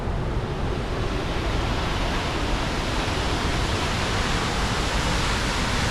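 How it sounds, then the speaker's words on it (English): Falls Creek Falls in Washington roars in full flow, a dense, steady wash of rushing water that fills the whole scene without letup and with no voices. "I can see the big waterfall and it is going off right now."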